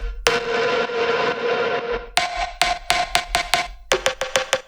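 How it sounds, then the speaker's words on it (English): A Kashmir Reverb pluck sample is played alone in Ableton Simpler: a long washed-out opening tone is followed by a run of short, bright plucked notes with reverb tails, clean and close. "I'm having here the Kashmir Reverb pluck"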